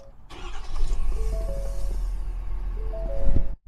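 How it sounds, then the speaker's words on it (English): The engine of a 2021 Omni RB34 4x4 bunk-model motorhome cranks and catches, settling into a loud, close, rumbling idle before cutting off abruptly near the end. "we got to get this motor started so you can hear it"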